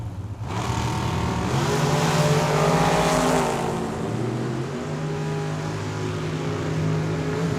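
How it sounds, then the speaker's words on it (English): A Don Davis chassis dragster blasts down the drag strip at Tucson Dragway, its engine a loud, sustained roar with rising harmonic whine as it accelerates, holding strong and close before easing slightly, with no talk over it. "That Don Davis chassis dragster."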